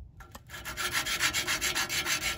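Sandpaper scrubs back and forth to clean a part on a 1971 Dodge Charger Super Bee, a close, rhythmic rasping with about a dozen quick strokes, loud and alone.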